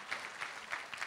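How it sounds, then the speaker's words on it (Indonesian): A congregation claps together during a morning prayer church service, a short, fairly soft burst of applause with steady, even patter. "Tepuk tangan buat dia."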